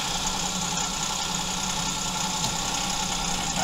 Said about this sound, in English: This is without load sensing engaged. Hear how it lugs down?